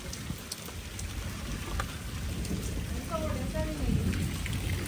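Heavy rain pours steadily with a low rumble of thunder rolling underneath, loud and continuous with no voices.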